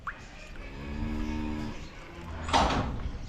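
Cattle in winter pens, some with frozen water troughs, moo in a low sustained call followed by a louder, sharper bellow near the end, fairly close with no talk over them.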